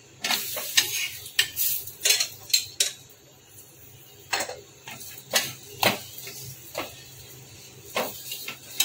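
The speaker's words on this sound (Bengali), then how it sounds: "পরোটা ভাজি সেভাবেই ভাজা হবে" Paratha fries in refined oil in a pan, a soft sizzle under repeated sharp clinks and scrapes of a spatula turning and pressing it, close and fairly loud.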